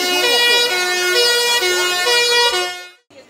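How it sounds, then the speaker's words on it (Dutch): Fire engine sirens wail loudly and close at a volunteer fire brigade open day in Prinsenbeek celebrating 225 years, the rising and falling tones overlapping continuously before breaking off at the end. "Loeiende sirenes in Prinsenbeek,"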